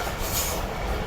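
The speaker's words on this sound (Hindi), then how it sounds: "तो ये पालीगंज रेलवे स्टेशन पर एक अदद माल गाड़ी को हम लोग ओवरटेक कर रहे हैं।" A new-wagon freight train at Paliganj station in Pakistan, heard as a dense, steady rolling rumble and rattle of wagons close by, continuous through the moment with no voices.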